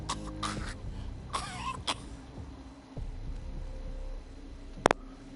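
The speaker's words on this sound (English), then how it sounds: "She sounds as though she's coughing on a hairball." A female character in a post-apocalyptic role-playing video game coughs in a few rough, throaty bursts early on, followed by quieter background game ambience and a sharp click near the end.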